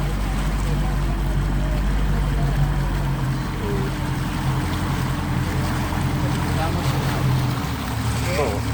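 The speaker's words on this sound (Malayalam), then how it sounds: "നമ്മളെ കൊണ്ടാക്കിയിട്ട് ബോട്ട് തിരിച്ചു പോവുകയാണ്" A boat engine drones steadily with low rumble and water churning as the boat departs a jetty on a Langkawi island-hopping tour, wind buffeting the microphone; the motor fades slightly toward the end.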